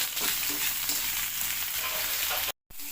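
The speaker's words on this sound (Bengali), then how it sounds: "বেগুনগুলো আমি হালকা করে একটু ভেজে নেব" Eggplant pieces fry in hot oil in a pan, giving a dense continuous sizzle that stays loud and close, then cuts off briefly near the end.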